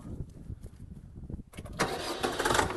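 A Kentavr 404X mini tractor engine cranks with low rumbling, then catches and roars into a loud, dense running note that stays steady, close by.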